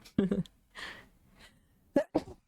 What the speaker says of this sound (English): I just sneezed directly to the mic.